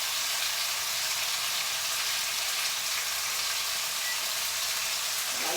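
Chicken breast sears in a hot pan, a steady broadband sizzle of frying that holds nearly unbroken at close range throughout, with no voices over it.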